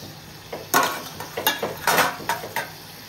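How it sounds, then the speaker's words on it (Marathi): Prawns cook in a pan, heard as a faint sizzle under a series of clattering scrapes and knocks of a utensil against metal, roughly a dozen close stirs in quick irregular succession, with no talk. "कोळंबी आपण 2 मिनिटं शिजवून घेऊ"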